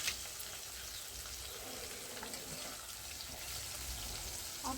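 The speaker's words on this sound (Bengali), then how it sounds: "মাছগুলো রোস্ট করছি, ছেড়ে দিলাম।" Fish roasting in a pan of oil and butter, a steady soft sizzle and crackle with occasional louder spits, fairly faint and continuous without talk.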